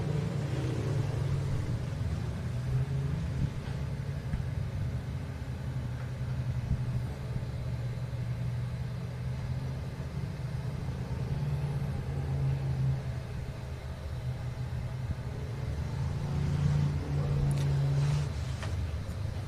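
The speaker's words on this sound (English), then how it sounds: "Here goes our next set of cars rolling out onto the Speedway." Race cars roll out onto the Pike County Speedway oval for the Jambalaya 100, a steady loud engine rumble and low drone throughout, swelling slightly near the end, with no talk.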